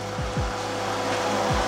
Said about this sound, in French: et faire tourner le petit ventilateur.